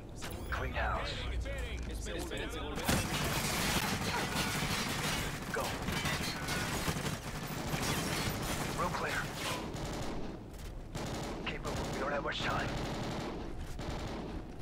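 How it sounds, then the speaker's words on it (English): Automatic gunfire in Call of Duty Ghosts during an underwater mission, dense overlapping bursts with mechanical clanks running throughout, while voices talk over the shooting. "Someone else is shooting"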